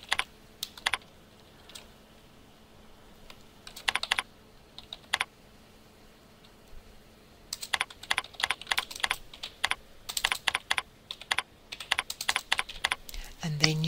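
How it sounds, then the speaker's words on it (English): Someone types on a computer keyboard while entering amounts into a stock delivery and collection application, with sparse clicky keystrokes early, a pause, and then denser bursts of rapid typing up close, with no talking. "As soon as you type in the amount, the rand will automatically be added."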